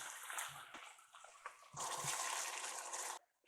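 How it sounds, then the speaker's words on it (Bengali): About two cups of water poured into hilsa fish in mustard sauce, a few soft splashes and then a loud, steady gushing pour that stops abruptly, heard up close. "এরপর দিয়ে দিব 2 কাপের মতো পানি।"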